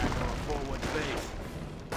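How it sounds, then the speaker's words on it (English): MG42 machine gun fire in the World War II strategy game Company of Heroes, a dense rattling burst mixed with other battle noise and distant booms, with voices talking over it. "MG42 firing away"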